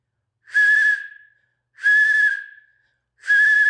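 A handmade brass pea whistle is blown in three separate loud, shrill blasts, each a steady high tone that fades off with a short trailing tail.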